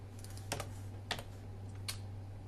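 Computer keyboard keys are pressed as shortcuts while building game prefabs in design software. There are three short, quiet clusters of close clicks over a constant low electrical hum.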